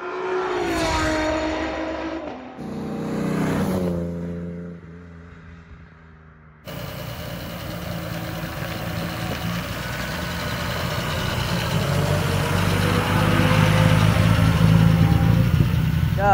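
A 1933 Alvis Speed 20 Cross & Ellis Tourer with synchronised gearbox runs on the road, engine revving and dropping through gear changes, then a steady rising drone with wind rush, close and loud.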